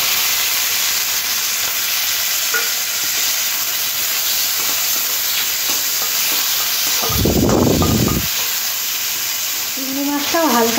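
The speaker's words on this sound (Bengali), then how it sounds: "চিংড়ি মাছটাও হালকা করে ভেজে নিয়েছি" Prawns coated in salt and turmeric fry in hot oil with a steady hiss and sizzle. Stirring clatters in now and then, with one louder scrape partway through.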